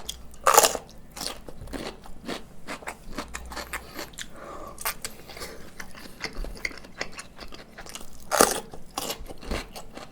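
Raw vegetables crunched and chewed up close during a diet eating session, with two loud crisp bites near the start and end and steady, softer chewing crackles in between, no talking.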